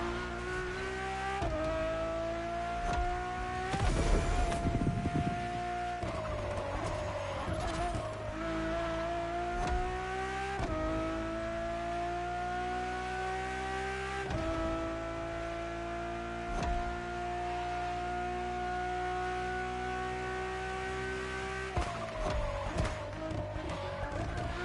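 A road-legal Formula One–style Ferrari engine in The Crew Motorfest revs and climbs through several gears. Each rising whine drops back at a shift, with brief tire squeal and a burst of noise early on.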